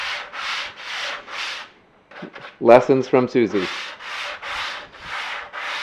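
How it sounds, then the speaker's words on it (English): Lightly sanding wood with the grain inside a van, rhythmic back-and-forth rubbing strokes close by, pausing while a person speaks briefly, then resuming in a steady pattern. "Lightly sanding with the grain."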